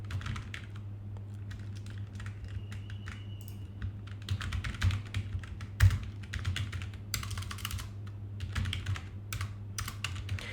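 Computer keyboard keys clatter in bursts of quick, uneven typing while a site title is entered, close and clear over a steady low electrical hum.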